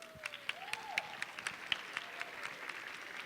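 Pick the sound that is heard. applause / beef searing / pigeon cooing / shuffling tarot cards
applause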